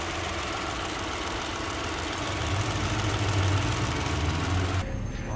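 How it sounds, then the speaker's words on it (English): Mitsubishi FTO engine idling at a car meet with a steady, even rumble and a faint ticking from noisy injectors, heard alone at moderate level with outdoor background noise. "Noisy injectors."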